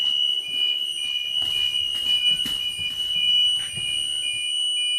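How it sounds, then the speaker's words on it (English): A continuous high-pitched electronic bus door warning buzzer sounds steadily throughout a bus pre-trip inspection, with faint thumps and movement in the background. "The buzzer is on."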